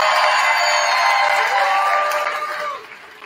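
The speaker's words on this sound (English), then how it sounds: "Let's give these outstanding character kids a big round of applause" A crowd applauds and cheers in a gym during a high school varsity basketball game, loud and sustained with whoops mixed in, fading toward the end.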